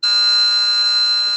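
Simulated pre-Columbian skull whistle tone picked up where its two spheres meet: a loud, steady, piercing shriek with many stacked overtones, held unbroken for over a second with no other sound.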